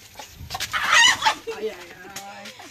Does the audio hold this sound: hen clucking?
yes